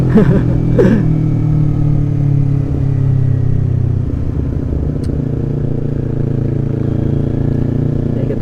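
A motorcycle fitted with an aftermarket exhaust idles steadily to warm up, its engine rumbling loud and close for the whole stretch, with a couple of brief throttle blips near the start.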